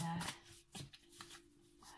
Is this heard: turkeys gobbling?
no